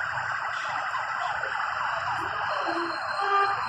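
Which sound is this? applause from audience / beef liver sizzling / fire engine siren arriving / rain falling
fire engine siren arriving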